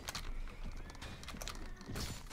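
A horse in the Mount & Blade Warband video game whinnies over hoof clip-clops and battle noise, with the calls and hoofbeats close and moderately loud.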